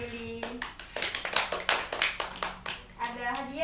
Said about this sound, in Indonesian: Ya, tepuk tangan buat Yuli.